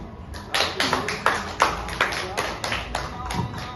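Hands clap in a series of sharp, distinct claps at an uneven rhythm, near and fairly loud, with a faint murmur of voices underneath.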